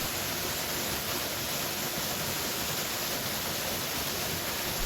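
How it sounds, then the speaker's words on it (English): A powerful waterfall rushes in a steady, dense roar deep in nature, loud and unbroken throughout with no other sounds. "The sound of rushing water fills your ears, steady and calming."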